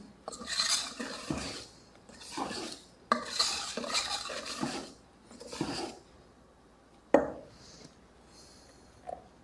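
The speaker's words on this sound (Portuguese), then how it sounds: "Mexendo com carinho a nossa massa, nas laterais e no meio." A spoon stirs cake batter for cakes in jars around the sides and middle of a bowl in several bursts of soft scraping strokes, ending with a couple of light clinks against the bowl, with no voices.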